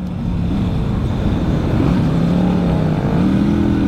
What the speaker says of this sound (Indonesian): Ini kenapa ada mobil lewat?